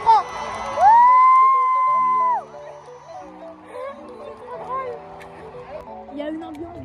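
A concert crowd at a show in Paris cheers and whoops. Sustained chanted tones swell loudly early on, then ease into softer, scattered voices.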